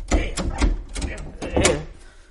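A voice mimics a badly closing door, producing a series of creaky, rasping bursts with squeaks and a final slam-like push, loud and close, with no actual door present.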